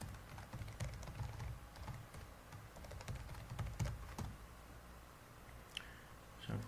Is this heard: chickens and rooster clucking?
no